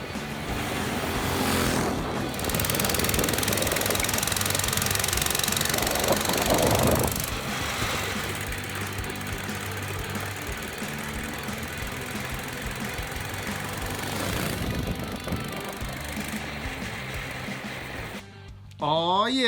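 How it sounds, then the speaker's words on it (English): A 97cc mini bike engine revs and runs outdoors, a loud, buzzing small-engine drone that rises and falls with throttle changes, with people talking over it. "we got us two little motorcycles here, mini bikes"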